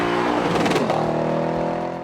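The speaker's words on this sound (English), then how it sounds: "It gives you a muscular, high-revving soundtrack, distinctly Lexus" A Lexus IS F's 5-litre 2UR-GSE V8 revs hard and close up, its deep, muscular growl climbing in pitch over about two seconds with no talk over it.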